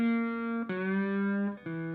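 Slide guitar in open E tuning plays notes that glide up and down between pitches, sustained and ringing, played alone and close with a slightly metallic tone.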